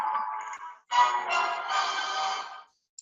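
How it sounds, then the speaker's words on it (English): Television audio playing from another participant's room during an online call, a muffled stretch of broadband sound lasting a couple of seconds with a short gap, then ending. "Somebody's TV is on."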